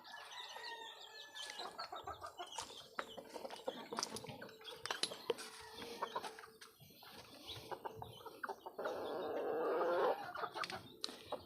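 Backyard pet chickens cluck and chirp close by in a series of short, irregular calls, with a brief rooster-like cry near the start and a burst of fluttering noise toward the end.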